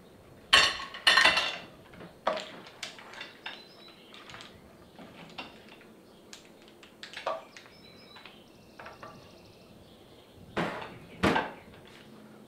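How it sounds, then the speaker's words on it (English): Clams in lemon garlic wine sauce spooned onto a blue platter, with scattered clinks and scrapes of utensil against dish and shells, including a few sharper knocks at the start and near the end. "we'll put it on this blue platter."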